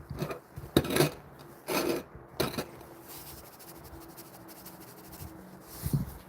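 Hands pat and press potting soil around a potted agave, giving several soft, scuffing pats in quick clusters early on, then quieter rustling, close by and with no speech.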